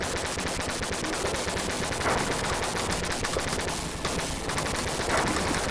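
Shotgun fire in Riot, the 1992 Tecmo video game, a rapid, relentless stream of loud, evenly spaced blasts with a gritty scraping texture, continuous for several seconds without speech.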